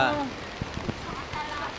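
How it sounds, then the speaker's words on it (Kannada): Rain falls at Abbey Falls, a dense close hiss with a few sharper drop patters. A voice briefly speaks over it. "ಮಳೆ ನೋಡಿ ಹೆಂಗ್ ಬರ್ತಾಯಿದೆ"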